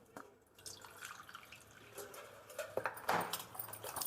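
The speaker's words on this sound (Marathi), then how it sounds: "हे वांगे ना आपण धुवून घेऊ आता" Medium-sized eggplants are rinsed in water in a home kitchen, with dripping, splashing and swishing water under steady background noise, close and moderately loud, without speech.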